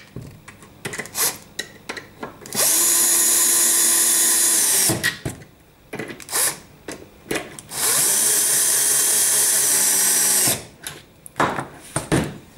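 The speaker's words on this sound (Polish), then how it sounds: "My właśnie używamy wkrętarek głównie z względów czasowych." A cordless screwdriver drives screws into a longboard baseplate in two long, loud whirring bursts, each lasting a couple of seconds, separated and framed by short clicks and handling knocks close by.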